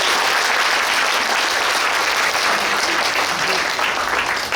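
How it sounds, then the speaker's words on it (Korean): Sustained applause from an audience fills the air at a memorial cultural event marking the May 18 uprising in Suncheon, clapping steadily for a young performer. "젊은 청년에게 큰 박수 한번 부탁드리겠습니다"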